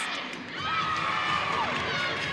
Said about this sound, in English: Oh, you heard the crowd.